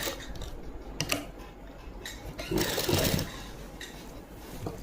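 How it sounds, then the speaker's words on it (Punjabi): A sewing machine stitches lace onto the edges of a dupatta in short rattling bursts of rapid needle clatter, with clicks and brief pauses between runs, heard close. "ਆਪਾਂ ਇਸੇ ਤਰੀਕੇ ਨਾਲ ਹੁਣ ਸਾਰੇ ਦੁਪੱਟੇ ਤੇ ਫੋਰ ਸਾਈਡ ਸਲਾਈ ਲਾ ਦਾਂਗੇ ਇਦਾਂ ਹੀ ਸਾਰੀ ਲੈਸ ਲੱਗੂਗੀ"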